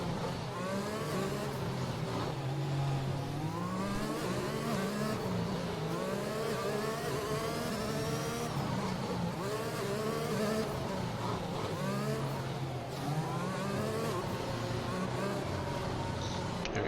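Formula 1 race cars in the F1 2021 video game at Baku whine and rise through their revs in overlapping passes, a continuous dense engine roar throughout.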